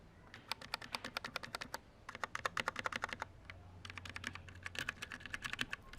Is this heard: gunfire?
no